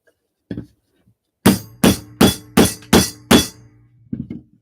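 Six evenly spaced, ringing hammer blows strike a metal NYC subway token being shaped into a ring on a workbench, close and loud, with lighter taps before and after.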